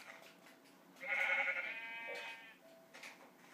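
Sheep bleating in the Minecraft video game, one drawn-out, wavering bleat at moderate volume over a quiet background, followed by a softer second call near the end.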